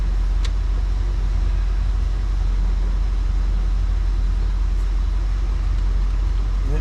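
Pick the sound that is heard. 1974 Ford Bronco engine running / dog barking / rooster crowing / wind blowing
1974 Ford Bronco engine running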